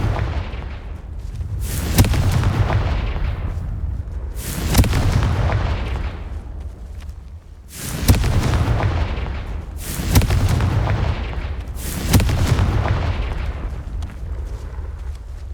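Blasting spells erupt one after another in the Hogwarts Legacy video game, five heavy, booming explosions spaced two to three seconds apart, each a loud, sharp crack followed by a rumbling decay.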